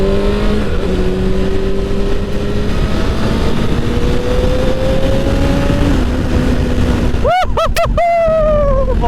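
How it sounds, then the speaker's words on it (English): Motorcycle engine revved hard while ridden, a steady droning tone climbing in pitch under wind and road noise, with sharp rising revs and quick blips near the end; loud and close. "I'm just going to rip the bike real quick"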